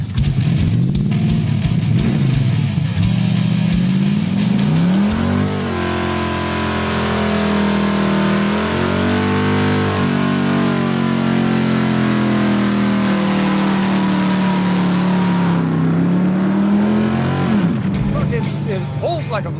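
Dodge Coronet V8 engine revving and pulling while driving, a loud, close mid-pitched roar that climbs and holds with shifting tones, dropping away near the end, with people talking over it.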